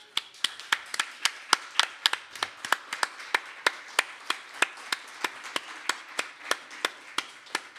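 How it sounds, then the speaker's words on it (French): Slow, regular claps ring out one by one at a novel launch, sharp separate strikes spaced about three per second and fairly close, with no crowd roar building around them. "je vous donne une main d'applaudissement"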